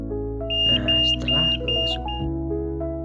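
A temperature warning buzzer on an industrial safety-monitoring setup sounds when the reading passes 29.5 °C. It gives a string of short, shrill, close beeps in an uneven rhythm while a voice talks underneath.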